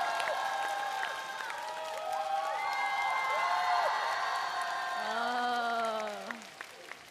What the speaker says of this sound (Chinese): 我们全场热情的掌声送给二位